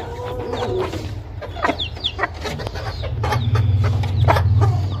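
A hen clucks in a backyard coop after laying an egg, with repeated close, choppy clucks over a steady low hum and other fowl calling faintly around her.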